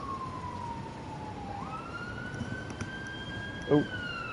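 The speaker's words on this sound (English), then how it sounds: "That's all I've been hearing since about 4 o'clock this morning. Just sirens up and down." An emergency vehicle siren wails outside, one long tone that slides downward and then climbs to a higher held pitch, carried over steady background noise with a brief thump near the end.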